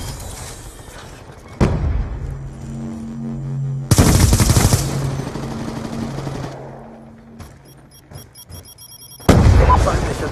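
Artillery piece firing in Black Ops 2, with sharp broadband blasts near 1.7, 4 and 9.3 seconds and a low mechanical hum and game tones between them, no talk.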